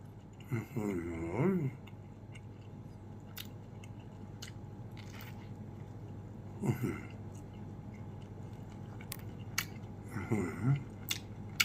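Close crunchy bites and chewing on fresh sticky waxy corn bought at a fresh market in Rasi Salai, Sisaket, coming as three short bursts of biting separated by quieter pauses, with faint clicks between them.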